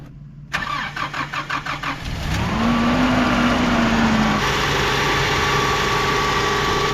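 An old 4x4 truck engine with a rotted exhaust cranks with a rapid chugging starter, catches, and settles into a loud, steady idle with a rising whine.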